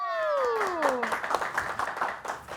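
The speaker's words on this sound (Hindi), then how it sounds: "तालियां!" A studio audience claps to welcome a guest on a talk show, and the applause builds and carries on after a sustained tonal sweep at the start fades out.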